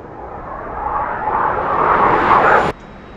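Jet engine of a T-45 trainer in a DCS flight simulator, a loud broad roar rising steadily as it spools up, then cutting off abruptly to a quieter hum near the end.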